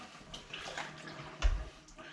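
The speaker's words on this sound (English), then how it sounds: "So I'm going to actually drain it a little bit." Water drains from a basin after a mousepad is washed, a soft, faint gurgling trickle with a brief low gulp partway through.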